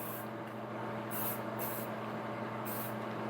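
A Tom Ford Tobacco Vanille body spray is sprayed in three short, hissing bursts, close and fairly quiet, over a steady low background hum.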